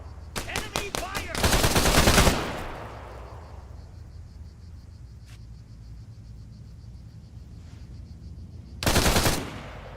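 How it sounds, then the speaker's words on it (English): Enemy gunfire in the combat game Arma 3: a rapid string of sharp shots opens, then a dense loud burst, a few faint distant pops, and another heavy burst near the end. "Enemy fire!"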